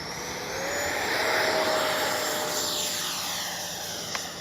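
An FMS Integral 80mm RC jet takes off, its electric ducted fan whining as it swells to a loud rushing roar, then slowly fades as the plane climbs away.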